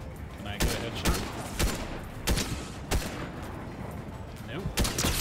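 Sniper rifle gunshots in Fortnite, five or six sharp cracks spaced roughly a second apart over busy in-game background noise.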